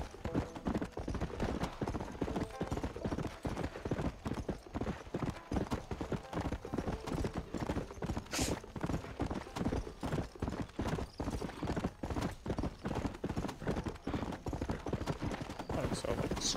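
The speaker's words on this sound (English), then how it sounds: "This horse is a bit fucking slow" War horse hooves in Red Dead Redemption, a steady rapid clip-clop of galloping or cantering continuing nonstop, with occasional whinnies and someone talking over it.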